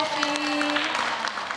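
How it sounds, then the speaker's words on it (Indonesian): An audience claps at a televised Ramadan iftar game show as a woman wins a cash prize, a short burst of applause with a voice talking over it. "Tepuk tangan Bu."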